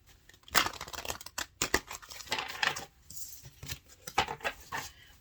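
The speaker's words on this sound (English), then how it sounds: "let's get something from Wisdom of the Oracle. Shuffle these a couple of times." A deck of oracle cards is shuffled a couple of times, giving bursts of riffling, flicking card noise with short pauses in between, close and crisp, with no voices.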